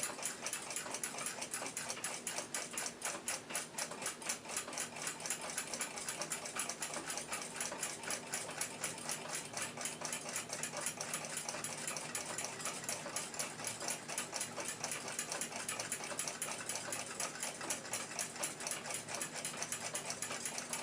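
Clock wheel train from a 1926 Lux clock being spun during restoration, giving a steady, rapid mechanical whirring and fine ticking of small gears throughout, close and even with no pauses or talk.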